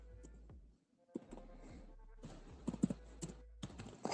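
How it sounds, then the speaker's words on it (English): Typing on a keyboard, with a run of clicky keystrokes and sharper taps across a few seconds, set against a steady low hum. "Hold on. I'm typing."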